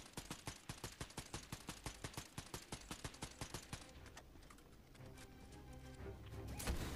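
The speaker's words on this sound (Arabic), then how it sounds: "معيش غير اخر طلقة يا رب تيجي فيه." Gunfire in the Fortnite video game: a rapid, evenly spaced burst of about twenty loud shots that stops abruptly, followed by quieter game ambience and a rising whoosh.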